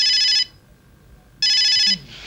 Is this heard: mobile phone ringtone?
yes